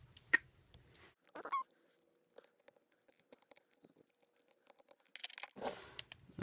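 Small scraping, clicking and ticking noises as a tiny screwdriver pries a plate off a Logitech Harmony 650 remote, sparse close-up bursts with quiet gaps between.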